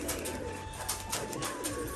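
Rajshahi pigeons at a home loft coo steadily and close by against a dense, hissy background, with occasional soft fluttering bursts.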